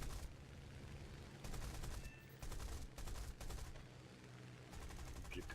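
7 mm machine guns fire in a flight combat game: several dense, rapid bursts of rattling gunfire a second or so long, over a constant engine drone, at low overall level.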